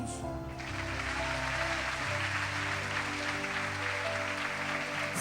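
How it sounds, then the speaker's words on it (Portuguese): A church congregation claps throughout a worship service, steady and fairly loud, while sustained music tones run beneath the applause. "Aplaude Jesus."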